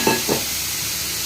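Water poured into spices frying in a pan gives two quick bursts of hissing, then settles into a soft, steady sizzle up close.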